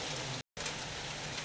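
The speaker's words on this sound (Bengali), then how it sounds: "বৃষ্টি হইতেছে" Steady rain pouring down in Dhaka in a dense, even hiss, with a brief cut to silence partway through.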